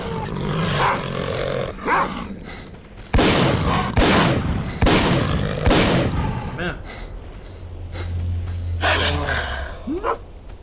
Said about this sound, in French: Mais saleté de chien!